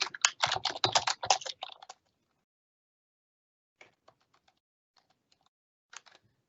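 Keystrokes on a computer keyboard clatter in a dense, fast burst for about two seconds, then a few sparse, quieter taps trail off after a long pause, close and without any voices.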